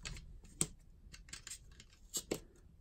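Knife drawn lightly across pieces of foam stuck to tiles, a knife slightly tacky with glue, making a run of soft scratchy scrapes and clicks at an uneven pace, close and quiet with no voice.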